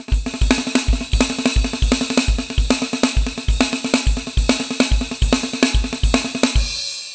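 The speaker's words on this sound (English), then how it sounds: "the normal inverted paradiddle that should sound something like this" Drum rudiment played on a snare: a normal inverted paradiddle, steady evenly spaced strokes in a regular repeating pattern, crisp and close, with no talking.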